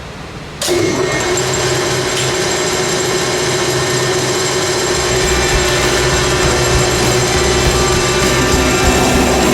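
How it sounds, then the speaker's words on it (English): A metal flange part being turned down on a lathe for a backhoe repair, a steady mechanical whir with fine ticking that starts abruptly after a brief pause and runs continuously and fairly loud to the end. "throw this on the lathe, turn this down"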